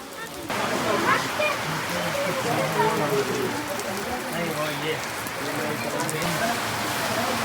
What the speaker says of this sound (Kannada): ಮಳೆಯಲ್ಲೇ ಕುಂತಿದ್ದೇವೆ, ಇನ್ನೂ ಅದರ ಮಳೆ ಹೋಗಿಲ್ಲ.